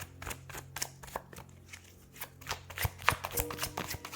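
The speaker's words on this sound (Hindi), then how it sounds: "मैंने कार्ड्स अच्छे से शफल नहीं किए हैं।" Tarot cards being shuffled by hand, a run of quick papery riffles and soft slaps at close range, irregular bursts with brief pauses and no talking.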